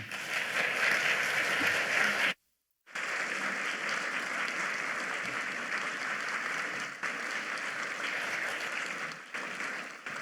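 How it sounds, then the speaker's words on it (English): An audience at a summit in Erie, Pennsylvania applauds Ambassador Mark Gitenstein: a sustained, dense roar of clapping broken by one abrupt moment of total silence, then resuming steady and even. "How about another round of applause for Ambassador Gitenstein"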